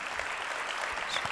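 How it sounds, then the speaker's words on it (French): An audience applauds the godmother of an entrepreneurship event, a dense, steady patter of many hands clapping in a hall, heard alone for a short moment. "Oui, vous pouvez l'applaudir."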